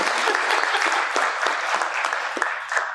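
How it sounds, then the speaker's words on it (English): Steady applause from a crowd, dense clapping throughout with no voices standing out. "can we get a round of applause, please?"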